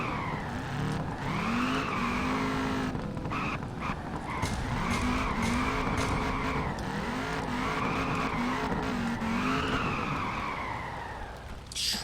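A car drifts in the racing game Peak Angle Drift Online, with continuous rising and falling tire squeal over a droning engine across a long, sustained slide.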